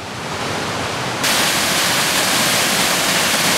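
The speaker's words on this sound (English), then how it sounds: "This is the top of that second waterfall, right down to a plunge pool" A waterfall plunges into a deep plunge pool, making a dense, continuous roaring rush that jumps noticeably louder and brighter about a third of the way in, then holds steady with no voices.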